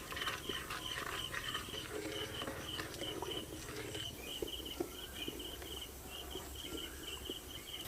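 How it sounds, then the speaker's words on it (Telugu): Sugar syrup bubbling on the stove, a dense, steady crackle of small pops and faint hissing, close and continuous with no talking. "బాగా మరుగుతుంది కదా"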